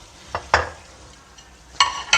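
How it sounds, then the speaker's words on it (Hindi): Chicken korma being stir-fried (bhuna) in a pot: a few sharp scraping and clattering stirs spaced across the moment, with a soft sizzle between them. "अब इसे मैं 7 से 8 मिनट अच्छी तरह बुनाई करूँगी"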